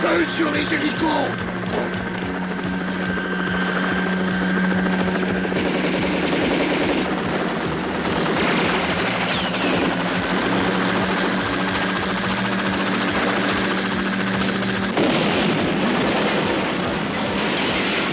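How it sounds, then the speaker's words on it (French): Rapid machine-gun fire rattles loudly and continuously amid a battle with helicopters, a dense mechanical roar beneath it and shouting voices breaking in. "Feu sur les hélicos!"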